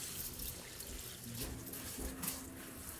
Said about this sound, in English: I'm just gonna quickly water the rest of the plants out here.